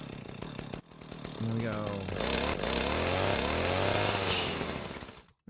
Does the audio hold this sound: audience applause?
no